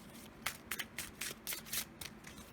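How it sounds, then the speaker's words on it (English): Oracle cards from the Color Goddess deck being drawn and shuffled by hand: a quiet series of soft, crisp riffles and slides in short bursts, close and alone. "Let's draw a few Color Goddess cards."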